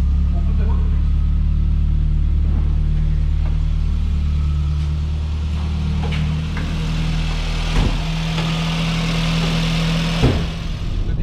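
A Volkswagen Golf engine idles steadily with a low, rumbling hum after starting, close by, while people talk over it with occasional knocks and handling noises.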